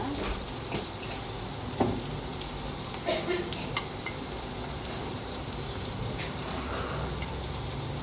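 Onions fry in a pan for egg bhurji with a dense, continuous sizzle, broken by occasional stirring clicks and light spatters, close and steady throughout.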